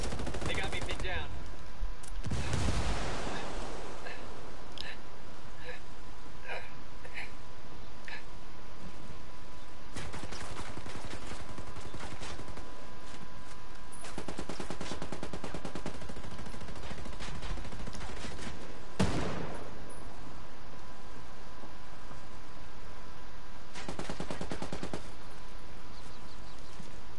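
Gunfire in the Ghost War video game, with a player pinned inside a building: scattered bursts and sharp shots come in clusters, separated by quieter stretches of background ambience.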